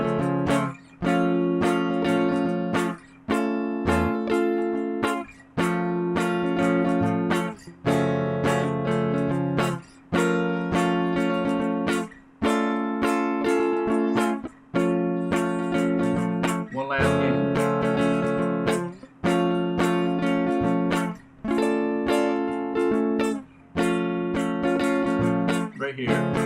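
Guitar plays inside chords on the bottom four strings, each shape strummed about three times in a steady repeating rhythm with brief gaps between groups, clear and close with no talking.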